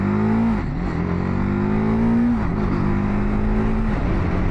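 TVS Apache RTR 310 motorcycle carving through corners on Michelin tyres, its engine droning steadily up close with the pitch dipping and climbing as the throttle rolls off and back on between bends.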